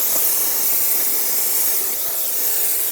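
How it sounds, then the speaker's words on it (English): Brake parts cleaner sprayed onto brake fluid-soaked parts of a 2008-2012 Honda Accord during a front brake hose job, one loud continuous aerosol hiss held close for about three seconds, then cutting off abruptly. "Take some brake parts cleaner and clean off this area where there's a lot of brake fluid everywhere"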